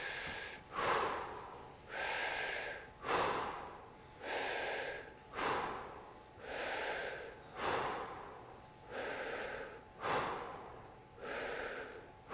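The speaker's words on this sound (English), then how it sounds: "we're just gonna breathe very shortly and then back out" Short, rapid breaths in a Wim Hof Method breathing exercise, about ten quick forceful inhale-exhale bursts in an even rhythm, close and alone.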